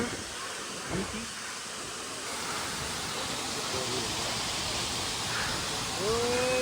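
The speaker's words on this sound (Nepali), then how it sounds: "बिहानीको सुरुवातसँगै हाम्रो प्राकृतिक झरनासँग हामी रमाउने छौँ" Tareveer natural waterfall rushes in the morning, a steady broad roar of falling water close by, with a brief voice-like tone near the end.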